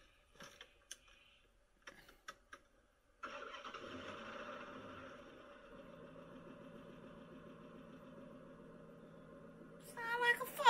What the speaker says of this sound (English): Crank the car up, man.